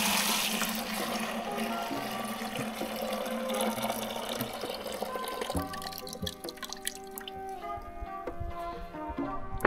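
Water drains from a gold pan into a bucket, pouring and splashing steadily at close range before breaking into scattered drips and trickles.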